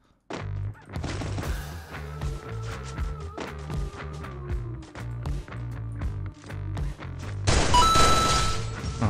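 Explosions and gunfire in the Free Fire battle game, a dense run of sharp, loud shots and booming impacts in quick irregular succession over a steady game soundtrack, rising to a heavier blast near the end.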